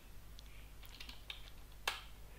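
A few sparse, quiet keystrokes on a computer keyboard, irregular clicks with one sharper tap near the end over a low background hum.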